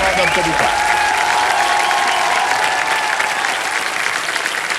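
A studio audience at a televised quiz show applauds loudly and steadily throughout, with a voice speaking over the clapping.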